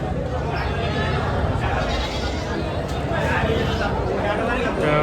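Goats and sheep bleat at a crowded livestock market, scattered calls rising over a dense, constant hubbub of people talking nearby.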